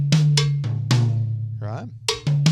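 A 16th-note linear drum beat played at one unvaried dynamic level, its sharp kit hits falling in a quick, busy pattern over a ringing low tone, with a brief gliding tonal sound midway and no talking.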